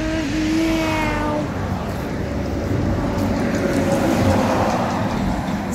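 Cars speed past on a city street, one engine revving up as it passes close before fading, with steady traffic roar continuing and a faint voice in the background.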